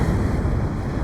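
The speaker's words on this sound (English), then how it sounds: "sorry, big blast of wind" A strong gust of wind roars across a microphone on the coast of Auckland's west coast, a dense, continuous rumble that buffets loudly and steadily throughout, with surf noise beneath and no voices.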